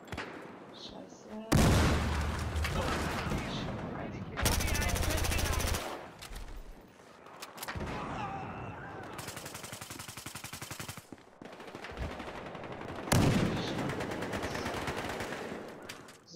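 Battlefield Hardline gunfire: dense, loud bursts of automatic fire and heavy shots that run almost continuously, with brief pauses between volleys and little talk.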